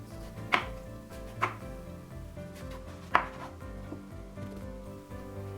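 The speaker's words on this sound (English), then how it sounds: "You can make very thin slices, or you can cut the eggplant into sticks" A knife cutting an eggplant into sticks on a cutting board, with several distinct, spaced chopping taps close by over a quiet background.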